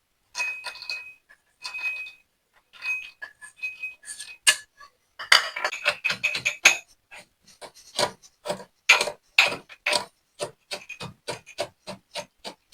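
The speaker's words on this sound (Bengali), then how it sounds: "এবার এগুলোকে আমি একটু গুঁড়ো গুঁড়ো করে দেবো।" Peanuts are crushed into powder in a home kitchen with repeated clinking, grinding strokes. The strokes start sparse and then quicken into a steady, close rhythm.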